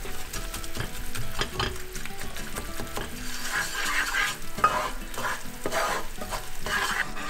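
White jaggery melting in a pan for sesame brittle (til chikki), stirred steadily with a spoon, giving a continuous soft sizzle with frequent scraping and clinking against the pan, close and moderately loud, with no talking.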